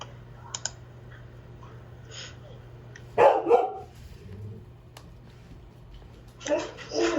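A dog barks a few times, loud and close, against a steady low hum, with scattered clicks and someone talking.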